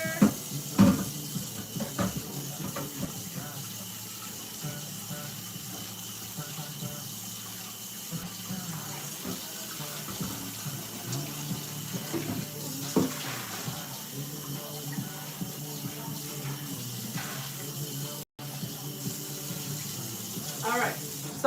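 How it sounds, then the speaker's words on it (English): A tap runs steadily for a long stretch while a pink cooking pot is rinsed out in a kitchen sink, with splashing shifts and faint clatter along with a few brief voices. "I'm gonna go ahead and rinse it out real good."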